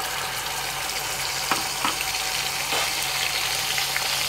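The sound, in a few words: tomato paste added to hot oil tempering, frying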